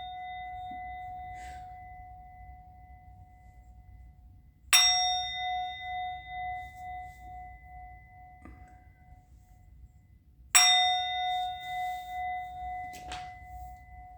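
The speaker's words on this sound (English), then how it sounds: "I'm going to ring the bell." A bell is struck twice, several seconds apart, each strike a loud bright clang with a long ringing decay in an otherwise quiet room.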